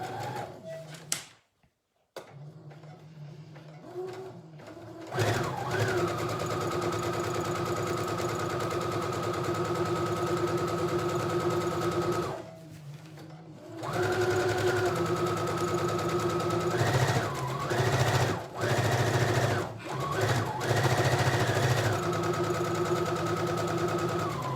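A sewing machine stitches a cotton elasticated skirt with a steady mechanical whir. It runs in long bursts, with short pauses and speed changes between runs.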